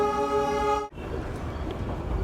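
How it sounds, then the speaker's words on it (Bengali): A diesel-powered Darjeeling toy train on the Darjeeling-to-Ghum line, winding along a snaking road: a steady, tonal, horn-like drone cuts off abruptly, followed by continuous close rumbling and rattling ride noise. "সাপের মতো রাস্তার এধার ওধার করতে করতে ছুটে চলেছে আমাদের খেলনা গাড়ি"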